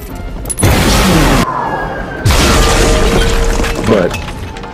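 An explosion effect delivered in two big blasts, each a loud, sudden boom with crackling, shattering debris spreading out behind it, separated by a brief dip between them.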